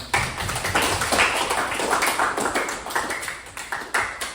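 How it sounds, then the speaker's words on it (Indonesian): A class or group audience clapping for everyone at the close of a lesson, in dense, steady applause that stays loud and even throughout with no talk. "tepuk tangan untuk kita semua"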